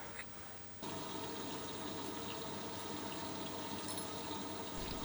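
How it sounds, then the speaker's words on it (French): Washing machine running in the background of a workshop, a steady broadband wash-and-water drone with low mechanical hum that starts abruptly after a quiet first second and continues evenly. "Travailler dans un bruit de fond de machine à laver,"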